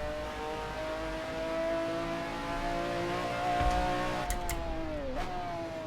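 A McLaren F1 GTR engine in a sim racing game drones steadily at high revs, with a sustained tonal whine. Near the end the pitch dips as it shifts or lifts off, and there are a couple of brief clicks.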